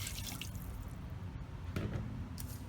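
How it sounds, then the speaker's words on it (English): Cold water poured over chicken in a pot for Persian tah-chin, a steady close trickle with a brief louder splash near the end, no talking. "Now on top of our chicken, we'll just add about 2 cups of cold water"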